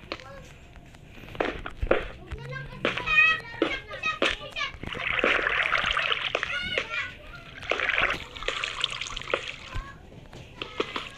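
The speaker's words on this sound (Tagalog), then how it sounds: "Lalaro guys sa labas yung mga bata eh." Children playing outside, heard from an indoor living room: their voices chatter and call amid splashing water and footsteps, moderately loud and continuous throughout.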